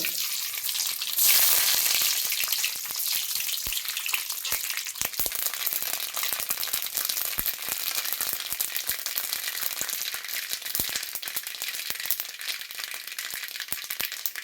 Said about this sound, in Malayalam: ഇപ്പോൾ ആ വെളിച്ചെണ്ണയിലേക്ക് എണ്ണയാണ് കേട്ടോ കടുകിടാണ്